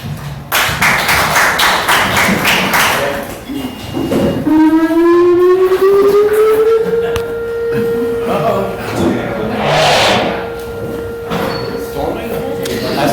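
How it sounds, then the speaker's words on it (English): A tornado siren winds up from low to a high sustained wail, preceded by clattering and people talking during a county council debate in Spartanburg, then holding steady in the distance. "Tornado siren."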